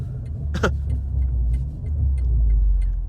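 A tuned BMW M340i with a downpipe drives along, giving a deep, loud engine rumble that swells and eases, with a brief sharp burst near the start and a few small clicks over the drone.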